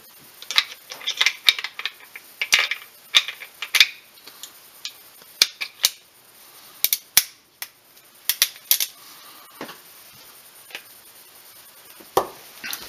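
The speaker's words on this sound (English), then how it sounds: "If we take my Ruger, open the gate, and take the cylinder out" Sharp metallic clicks and small mechanical snaps come from a Ruger single-action revolver as its loading gate is opened and the cylinder is worked out. The clicks are close, crisp and irregular, with short pauses between them.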